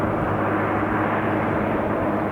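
Steady, loud rotor and engine roar of a firefighting helicopter flying over a wildfire at night, a continuous broadband drone with no voices.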